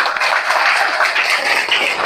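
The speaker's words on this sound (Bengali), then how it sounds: "এর জন্য আমরা সবাই একটা হাততালি হোক।" A school class at a class party at Al Hikmah Bidyaniketan applauds together, a dense, steady wash of many hands clapping close by for the whole stretch.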